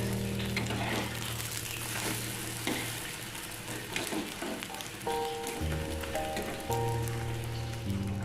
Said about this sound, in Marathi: अंड्याची पोळी मस्त अशी मी भाजून घेतलेली आहे दोन्ही साईडून